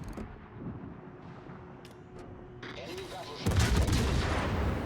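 Ship guns fire in a World of Warships style naval battle game from a Tier 9 Commonwealth cruiser, with a low rumbling boom that swells into a loud, sustained blast of gunfire near the end.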